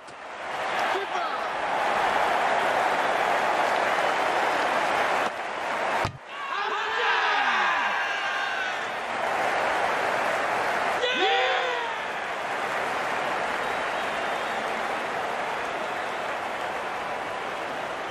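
A packed cricket stadium crowd at an India versus Sri Lanka one-day international roars and applauds in a steady, loud wash, with commentators talking over it and brief swells of cheering.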